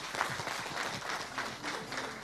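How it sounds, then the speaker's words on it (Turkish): At an award ceremony for a recycling and design competition, an audience applauds a student with soft, sustained clapping that sounds somewhat distant and steady, with faint voices mixed in. "öğrencimize alkışlarınızla sahnemize alıyoruz"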